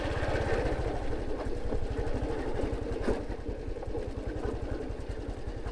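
Tractor engine chugging in rural Laos, a fast, even thumping pulse that stays close and steady for the whole stretch, with no talk over it.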